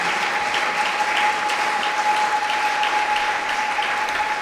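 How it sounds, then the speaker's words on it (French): A church congregation applauds and cheers for the glory of the Lord, a dense, even roar of clapping that holds steady and loud throughout. "Est-ce que quelqu'un peut acclamer pour la gloire de notre Seigneur Jésus?"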